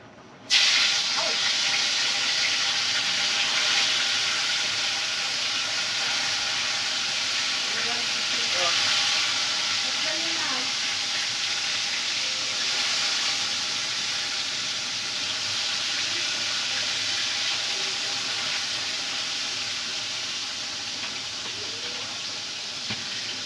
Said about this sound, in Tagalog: Ipiprito ko naman to.